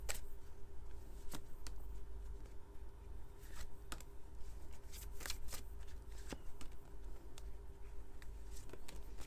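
Oracle cards for a tarot reading being shuffled, continuous soft riffling with sharp clicks at irregular intervals over a low room hum, close and quiet with no talk.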